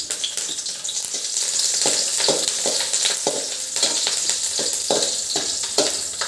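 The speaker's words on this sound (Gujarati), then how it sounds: "હવે આ મરચાં આપણા બ્રાઉન થાય ત્યાં સુધી આપણે એને શેકવાના છે." Green chillies and curry leaves sizzle and crackle steadily in hot oil in a pan, with frequent stirring scrapes cutting through the dense, close frying hiss.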